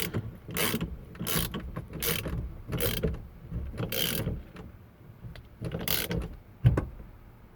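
A 22mm socket on a ratchet wrench clicks in several short bursts while snugging a quick-release hub on a Datsun 280Z, the ratcheting close and moderately loud, with brief pauses between strokes.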